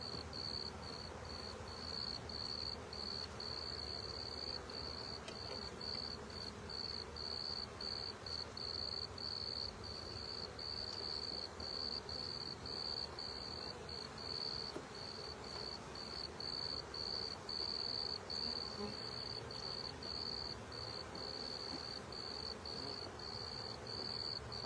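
Honey bees buzzing around an opened hive during an April inspection, a steady low hum with a sustained high insect drone running continuously throughout, fairly faint and with no talking.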